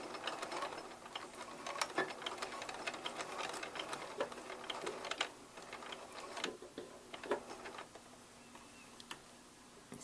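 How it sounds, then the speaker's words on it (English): A sewing machine stitches a flat fell seam, running in a fast steady patter of needle ticks, close and moderately loud, with brief changes in pace as it goes forward and reverses. "Take a couple stitches forward, then reverse."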